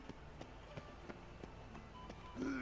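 Horse hooves in The Witcher 3 video game, a steady clip-clop of regular hoofbeats at moderate distance, with a brief tonal sound near the end.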